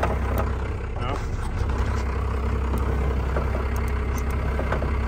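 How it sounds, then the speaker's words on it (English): An abandoned first-generation Dodge D350 truck's Cummins diesel engine idles with a skipping motor, giving a steady, heavy, low rumble that runs throughout, with faint voices in the background. "Sounds like the motor is skipping."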